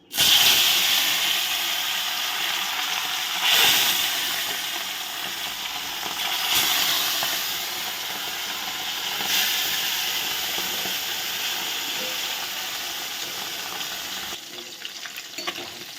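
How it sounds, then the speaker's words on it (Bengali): Fish pieces slid one by one into hot oil, frying with a steady loud sizzle and crackle that swells briefly as each piece goes in, continuous throughout with no talk. "এবারে আমি এই গরম তেলে মাছগুলোকে একটা একটা করে ছেড়ে দেব"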